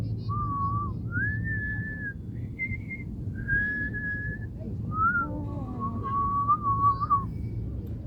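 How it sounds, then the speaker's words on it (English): Someone whistles a slow, wavering melody of drawn-out notes over a steady low background hum, fairly close and clear, in a park. "You can whistle."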